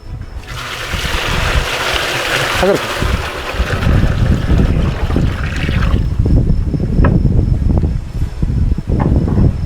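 Water is poured into a half-cut 200-litre drum outdoors, a loud rushing splash and gush that runs steadily for several seconds, with a brief spoken word and wind buffeting the microphone.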